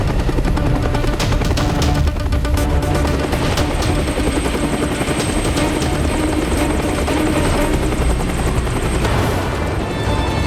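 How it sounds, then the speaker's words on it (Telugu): A helicopter's rotor and engine roar loud and steady from start to finish, a continuous dense chop with no voices, as the aircraft comes in beside a palace. "ఆ ప్యాలెస్ పక్కనే హెలికాప్టర్ని ల్యాండ్ చేయి."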